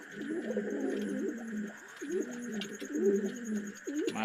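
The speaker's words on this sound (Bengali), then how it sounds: "একবারে কাজল চোখের কবুতর" Kajal-eyed pigeons in a home loft with young chicks coo repeatedly in soft, rolling phrases, close by, over a faint steady hum.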